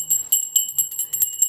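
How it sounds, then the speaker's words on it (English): A small handheld bell rung at a home altar, bright metallic rings struck in a quick irregular series of about seven chimes, close and clear against a quiet room, with no talking. "Let me grab my bell."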